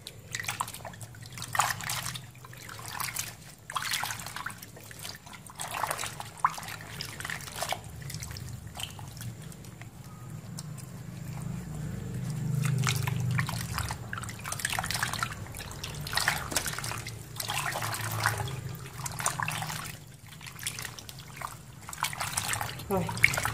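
Dried bamboo shoots, soaked a day and a night until soft, being washed by hand in water: soft intermittent splashes, drips and sloshing up close, fairly quiet, with a gentle trickle in between and no talk.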